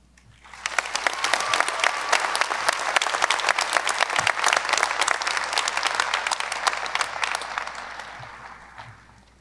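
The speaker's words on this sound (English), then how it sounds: "yes, we can do applause" Audience applause at a high school commencement ceremony, a dense crowd of clapping that swells up, holds steady for several seconds and fades out near the end.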